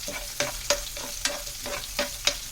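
A steady crackling sizzle of shallots frying in oil for oil-cooked eggplant, with periodic scraping strokes of a spoon stirring the pan.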